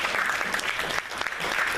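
Sunday-service congregation in a Korean church applauding the worship team, a loud, dense burst of many clapping hands that holds steady throughout.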